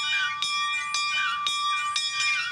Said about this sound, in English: right up here we have a little train bell